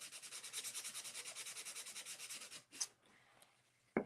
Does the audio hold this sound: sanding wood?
yes